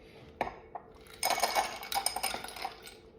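A large batch of ice cubes tumbling into a glass for a pink and blue spring soda drink, one early clink followed by a dense run of rattling, clattering cubes close by.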